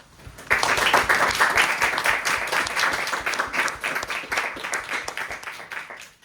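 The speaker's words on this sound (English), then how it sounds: "let's give Yuqi a round of applause." An audience at a university philosophy society talk applauds steadily for several seconds, a dense wash of many hands clapping that slowly fades toward the end.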